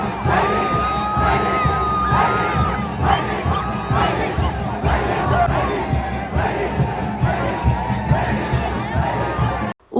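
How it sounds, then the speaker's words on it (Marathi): A dense crowd cheers and shouts together at a Shimga palkhi procession in Ratnagiri, a loud continuous roar of many voices with children's shouts and a faint jingle, cutting off abruptly at the end. "सुरू झाला एकच जल्लोष आणि एकच आवाज"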